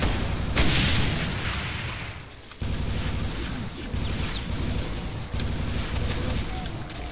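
Shotgun blasts in the first-person shooter Brutal Doom, played on the Ultra Violence level E1M7, boom out in loud, closely spaced bursts with a few pauses between volleys.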